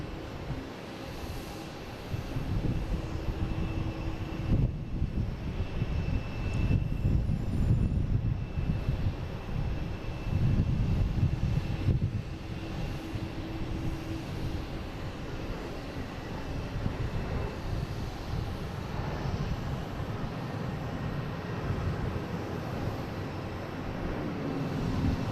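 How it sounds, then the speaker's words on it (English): A Delta Boeing 757 jet airliner from Las Vegas arrives at Boston Logan International Airport, its engines a broad, steady low roar that swells and lingers at a distance for the whole stretch. "next coming in is that Delta 757 from Las Vegas, flight 498"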